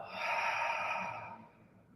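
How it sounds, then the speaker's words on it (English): One full, breathy exhale through the mouth during a beginner yoga breathing exercise, close and airy, swelling quickly then fading out over about a second and a half. "Deep inhale, and then a full exhale through the mouth"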